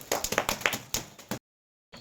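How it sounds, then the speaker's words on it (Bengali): A small group of people at a party game of carrying a glass of water on tissue claps hands, giving a quick, uneven patter of close claps that stops abruptly. "তো সবাই একটা হাততালি"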